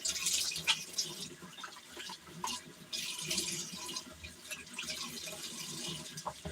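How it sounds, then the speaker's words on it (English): Tap water runs and splashes into a sink while makeup is rinsed off a face, a steady broadband wash with scattered drips and splashes, close and fairly loud, no talking. "let me rinse this off my face"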